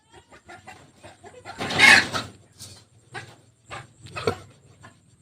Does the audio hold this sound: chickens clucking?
yes